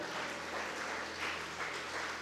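Church congregation applauding during a Spanish-language sermon, a thick, continuous burst of clapping filling the room, close and loud for its short span.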